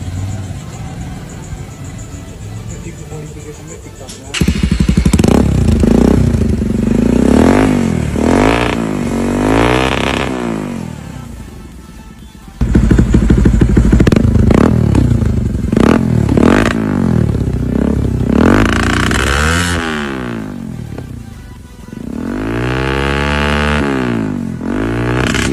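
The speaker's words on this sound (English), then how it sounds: "Así se escucha una NS con escape de KTM." Bajaj Pulsar NS200 motorcycle fitted with a KTM exhaust, revving hard in repeated bursts that rise and fall, close and loud, with short idle gaps between throttle blips and no talk.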